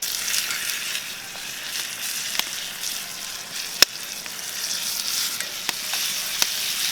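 Steak and sweet potato sizzle over a campfire in the NC mountains, cooked without tinfoil, a steady crackling fry with occasional sharp pops and clicks, no voices.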